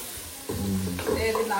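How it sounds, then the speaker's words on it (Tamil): Onions frying in a pan for mutton biryani give a steady close sizzle, with a voice talking over it partway through. "ஆனியன் வந்து பாத்தீங்கன்னா நல்லா வதங்கட்டும்"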